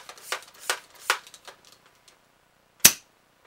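A breeched Supermaxx 5000 blaster fires a single sharp pop near the end, preceded by light clicks and handling noises of the toy being readied.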